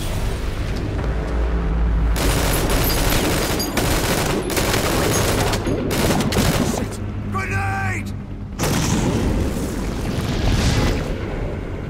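Gunfire and grenade explosions in Metal Gear Solid V: dense, continuous bursts of shots and booming blasts, loud and close, with a brief lull before the barrage resumes.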